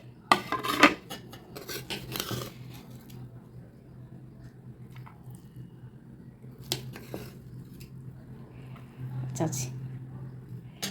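Tomato rice is scooped out and served onto a plate with a metal spoon, giving sharp clinks and scrapes of cutlery against dishware in irregular bursts over a low, steady hum.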